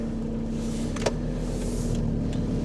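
A red car moves nearby on a city centre street on a winter Friday night, a steady low engine rumble with a brief whoosh and faint tonal whine, no voices.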